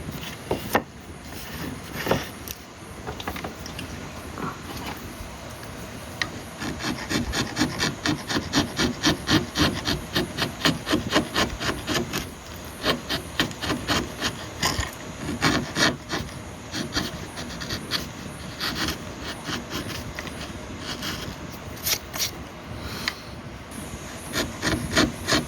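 Rough manufacturer's grind marks are smoothed from a wooden violin fingerboard with a rasping, rubbing stroke, a close, rhythmic series of scrapes repeating steadily at moderate volume with no talk.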